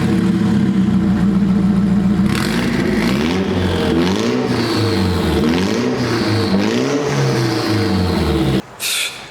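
A Nissan Silvia S15 Spec R with downpipe and cat delete idles loud and raspy up close, then revs in repeated rising-and-falling throttle blips before cutting off abruptly near the end.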